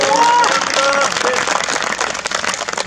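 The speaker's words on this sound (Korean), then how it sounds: "큰 박수로 환영해 주십시오." Brief burst of crowd clapping at a peace festival marking the Panmunjom Declaration anniversary, dense at first and thinning out over a few seconds, with a short tonal sound near the start.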